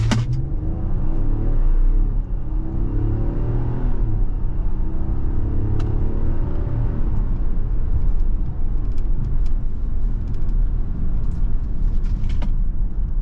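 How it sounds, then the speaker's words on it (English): A 2023 Nissan Pathfinder Platinum 4x4 with a naturally aspirated V6 pulls away under acceleration, a loud, steady engine rumble that climbs smoothly in pitch and holds throughout. "Nice pull, nice linear torque delivery on this naturally aspirated V6."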